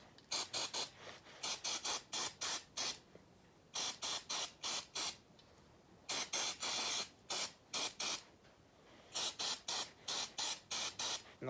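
Cleaning fluid sprayed onto a 1999 Yamaha Big Bear 350 carburetor in rapid bursts of sharp hissing pumps, grouped in four or five short trigger squeezes with brief pauses between groups, close and loud with no talk.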